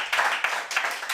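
A television studio audience at a Galician music show applauds, a brief burst of close, dense hand clapping in uneven surges.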